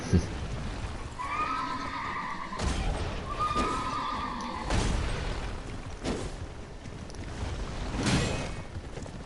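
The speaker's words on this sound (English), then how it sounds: "So I think your horse has run amok." A horse in Elden Ring whinnies loudly twice in rising, shaky calls, with scattered hoof thuds and rain-like patter in the background.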